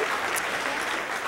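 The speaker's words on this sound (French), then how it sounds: "On les applaudit très fort." A crowd at a 2019 fashion show at the Séminaire Saint-François applauds, a brief, dense and steady burst of clapping at moderate volume with no voice over it.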